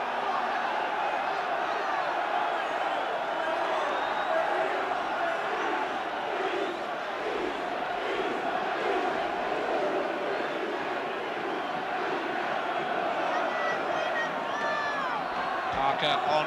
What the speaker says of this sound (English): the crowd are loving these last few minutes because Southend are throwing everything at Liverpool now